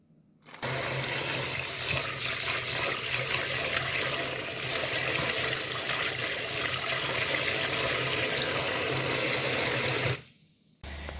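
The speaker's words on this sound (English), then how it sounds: "I'm gonna just wash some rice and toss it right in the pot" Rice is washed under a steadily running tap, a continuous loud rush of water for about ten seconds that cuts off abruptly, with no talking.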